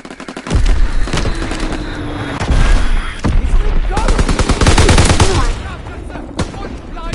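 An enemy aircraft's strafing run in Call of Duty WWII tears through as loud, sustained machine-gun fire in dense bursts with heavy booms, a faint voice barely audible beneath the barrage.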